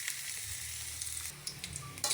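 Ginger, onion and garlic sauté in a pan with a soft, steady sizzle and a few faint stirring clicks, quiet and close.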